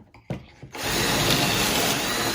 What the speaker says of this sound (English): in the Kreg K4 jig, just going to drill a couple of holes here